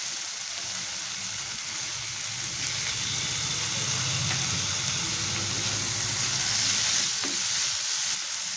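Potato, onion, tomato and chopped chilli fry in a pan with a close, steady sizzle, with soft stirring scrapes mixed in throughout and no voices.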